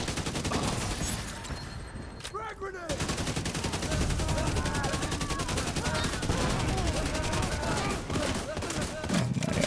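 A video game gun called the Eclipse firing rapid sustained bursts, loud and close, with a brief pause early on. A voice talks over the shooting.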